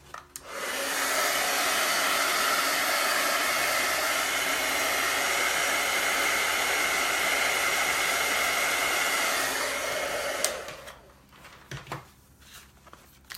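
A heat tool blows hot air over a chalk-decorated nautical chalkboard, a steady, loud, close whir for about ten seconds before it switches off, leaving faint handling sounds.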